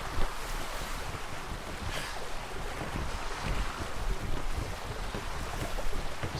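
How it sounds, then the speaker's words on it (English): Calm ocean water and soft wind wash steadily around a sailing ship at sea in the game Atlas, a constant broadband hiss with gentle swells and no voices. "We got super calm waters tonight."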